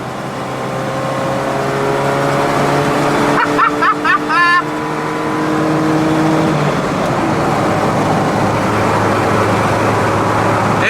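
A 1994 Ford Ranger truck engine with nitrous pulls hard in second gear, a loud steady drone with rising harmonics and a brief burst of shifting tones in the middle, continuing strong to the end.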